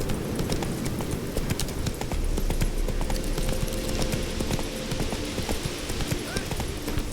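Horse hooves clip-clop steadily along in The Witcher 3, a continuous rhythmic trot layered over busy game ambience.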